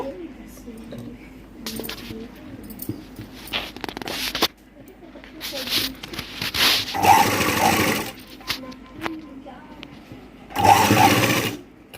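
A sewing machine stitching tucks on a blouse runs in bursts of rapid, rhythmic whirring, close by, with pauses for fabric handling and someone talking between runs.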